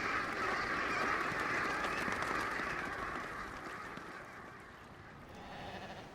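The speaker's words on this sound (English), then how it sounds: "Brent geese passing through." Brent geese honk and call in flight over a steady wash of wind or distant noise on the North Sea coast, the calls blending into a continuous chorus that fades slightly toward the end.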